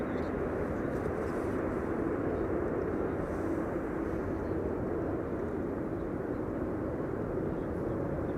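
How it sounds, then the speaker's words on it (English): A LATAM Cargo Boeing 787 Dreamliner at Amsterdam Schiphol Airport gives a steady, broad jet roar that holds at an even level throughout, distant and unbroken, with no voices over it. "Latam Cargo Dreamliner"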